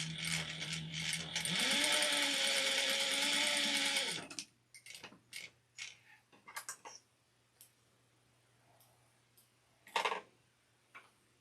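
A sewing machine stitches the neck seams of an apron in one steady run of about three seconds, close and loud, followed by scattered clicks and light handling of fabric and tools.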